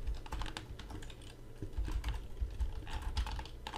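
Someone types on a computer keyboard in quick, uneven bursts of soft clicks and taps, close and fairly quiet, with no voice over them.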